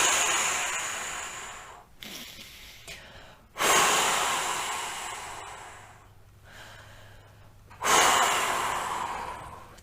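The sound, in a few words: deep cleansing breaths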